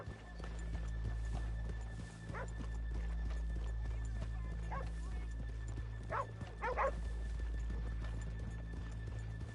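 Horses in Red Dead Redemption 2 walking along a town street, with a few soft hoof clip-clops over a steady ambient hum and a dog barking briefly in the background.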